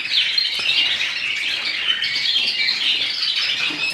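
A bird room full of young mule hybrid birds housed for the molt, a dense continuous chorus of high chirps, squawks and twitters close by, with no talking.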